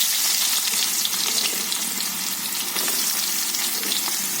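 Chopped onion sizzling steadily in hot oil with asafoetida in a pot while sambar is being made, a dense, even crackle and hiss that holds close and loud the whole time with no voices.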